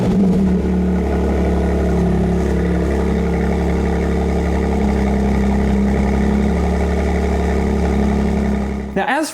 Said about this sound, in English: So take a listen to McLaren's latest power plant starting up.